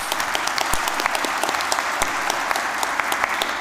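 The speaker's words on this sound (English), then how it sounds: "a round of applause for our graduates" An audience at a City College Dublin graduation ceremony claps for the graduates in a sustained, even round of applause, with a few sharp louder claps standing out near the front.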